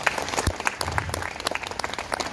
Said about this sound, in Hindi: एक बार जोरदार अपने लिए तालियां बजाओ।